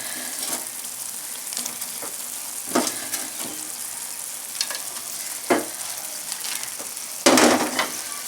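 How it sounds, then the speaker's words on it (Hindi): Sooji halwa with almonds, raisins and coconut being stirred in a frying pan, a steady sizzle broken by a few scraping strokes of the spoon, including one louder scrape near the end. "अब इसे अच्छी तरह मिला देंगे, मिक्स कर देंगे"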